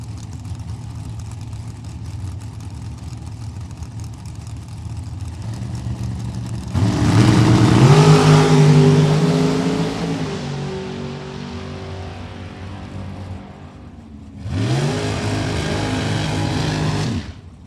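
A dragster at a Super Pro drag racing event holds a steady, loud idle, then roars in a long, powerful run that fades away. A second engine burst flares up briefly near the end.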